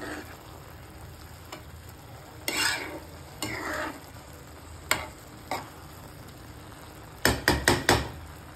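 Bottle gourd halwa cooks in a pan, with a low simmering sizzle under scattered scraping stirs and a quick run of four or five spoon knocks near the end, close and fairly quiet, with no voices.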